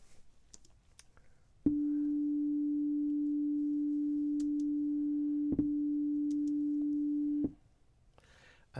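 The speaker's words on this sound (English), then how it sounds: "So here we've got a single sine wave." A single steady pure tone sounds alone for about six seconds, with a faint click partway through, starting and stopping abruptly against quiet background.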